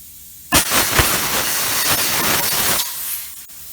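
Air hisses out of a car tire's valve stem while the valve core is swapped during tire mounting: a loud, steady rush that starts abruptly, holds for about two seconds, then cuts off to near quiet.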